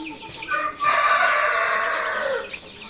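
A native desi rooster crows loudly in one long call on a poultry farm, with chickens clucking faintly around it before and after.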